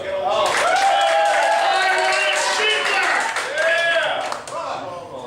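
Audience applause after a punchline at a lively comedic sermon-style show, a dense sustained burst of clapping with cheers and shouting voices mixed in, loud and close, tapering off near the end.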